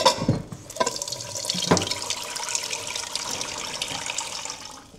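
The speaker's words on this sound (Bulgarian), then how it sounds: "Малко вода в тигана" Water splashes into a frying pan with a short sizzling hiss that settles into steady bubbling, close up and moderately loud with no talking.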